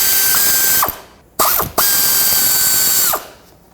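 A ratchet with a 10mm socket unbolts fasteners on a 2003-2021 Chevrolet Express during oil cooler line work, giving two long, loud, close bursts of fast whirring ratchet clicks separated by a brief gap.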